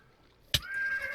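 Skeleton horse in a modded video game letting out a sharp snort followed by a long, high, wavering whinny, fairly close and clear, ending with a soft thud.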